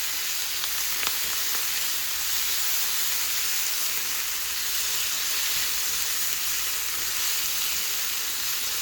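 A small tomato frying in a pan with ginger garlic paste, giving a steady, even sizzle and hiss throughout with no pauses.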